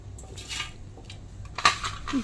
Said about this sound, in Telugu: ఇలా మిక్సీ జార్లో వేసుకొని బాగా మిక్సీ పట్టుకోవాలి